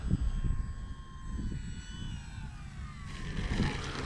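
A Durafly Tundra RC airplane on wooden tires flies in a crosswind, its electric motor giving a steady, fairly close whine over gusty rumbling wind noise throughout.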